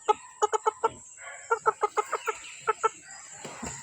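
Chickens on a farm cluck in short, repeated bursts, rhythmic runs of close clucks separated by brief pauses, fairly loud with no talking.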